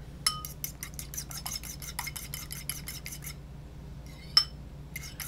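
Eggs whisked in a bowl while cooking in an RV: quick, rhythmic scraping clinks of a utensil against the bowl, about a dozen close strokes, a pause, then a sharp tap and a few more strokes, over a low hum.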